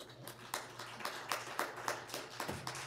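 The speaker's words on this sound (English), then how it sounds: "Give her a round of applause." A church congregation claps hands in a round of applause, a soft, evenly paced patter of separate claps that sounds quiet and a little distant.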